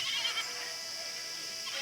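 A lamb bleats in a cartoon scene, a faint, wavering high-pitched cry heard alone over a steady background hiss.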